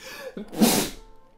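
A single close sneeze, with a quick intake of breath followed by a bright, explosive burst that fades within about half a second.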